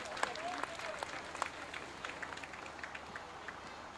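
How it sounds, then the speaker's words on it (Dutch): At a liberation anniversary military parade, spectators give faint, scattered clapping for veterans riding in trucks, with sparse distinct claps over a low outdoor background. "U mag ze ook een warm applaus geven."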